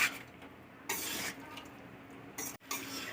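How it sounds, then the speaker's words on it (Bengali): Raw mango pieces being stirred and sautéed with chicken in a pan at home, with a spoon scraping and clattering against the pan in bursts over a faint steady sizzle. "কাঁচা আম রাখা হয়েছিল সেটা এবার ওর মধ্যে দিয়ে দেয়া হচ্ছে দিয়ে আবার একটু ভালো করে কষানো হবে"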